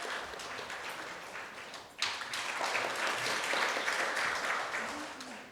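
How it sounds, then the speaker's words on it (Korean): An audience at a formal international friendship evening breaks into applause, quiet at first and then swelling into steady, close clapping that lasts several seconds. "여러분 큰 박수로 맞이해 주시기 바랍니다."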